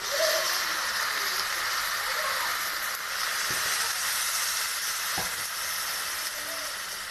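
Water is poured into a hot pan of sprouted moth beans, producing a continuous close sizzling hiss with a couple of soft clicks, steady throughout, without speech.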